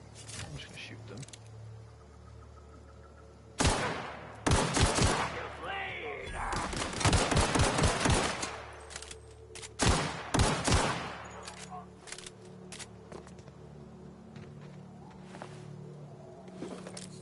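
Bursts of gunfire in the sci-fi video game The Outer Worlds, several loud rapid volleys of shots at intervals with quieter game ambience between them.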